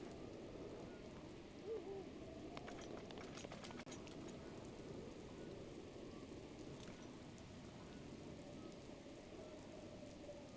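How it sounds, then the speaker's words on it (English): Steady rain falling in The Legend of Zelda: Breath of the Wild, a dense soft hiss of drops on the ground that runs evenly throughout, with no talking over it. "so the rain is stopping now."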